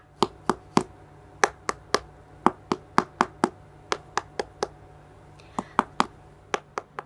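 Knocking alternately on two Lhong Lap Lae durians to compare their ripeness: a fast, steady series of close, sharp taps, over twenty in all, with slight changes in tone between strikes and a quiet background.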